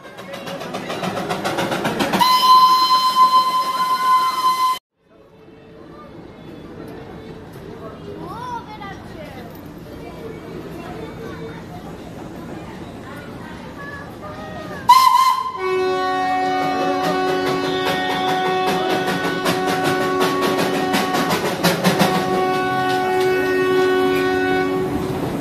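The Darjeeling toy train steam joyride arrives at a station platform, with loud horn or whistle blasts, rumbling engine and wagon noise, and a station announcement voice heard over the train sounds.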